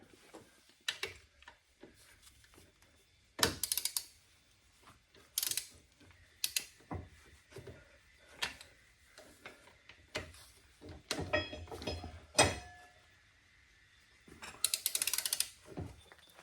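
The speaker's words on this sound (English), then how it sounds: "Well, I have the new torque wrench and I have an old torque wrench" A torque wrench ratchets in bursts while tightening bolts on a VW Super Beetle chassis: rapid clicking runs and isolated sharp clacks, close and fairly loud, with quiet gaps between, no talking.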